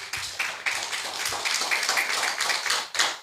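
A church audience breaks into a round of applause, many hands clapping at close range in a dense, steady patter that continues throughout.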